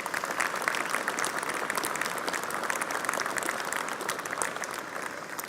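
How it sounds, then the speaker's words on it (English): An audience at a UK retail property conference in Liverpool gives the panellists a sustained round of applause, even and moderately loud, with no voices on top. "I wonder if you could give them a round of applause."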